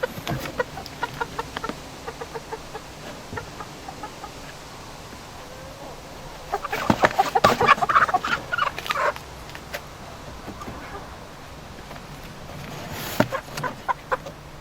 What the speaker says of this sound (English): we've got the new 9 hens all ready to go in, so we're going to put the first few in now